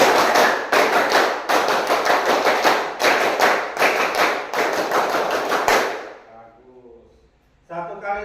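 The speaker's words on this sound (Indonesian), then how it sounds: "2 kali tepuk pramuka." A group of scouts performs the tepuk pramuka scout clap, sharp rhythmic handclaps in a patterned sequence of bursts and pauses, loud and close, ending in quiet before a voice starts speaking.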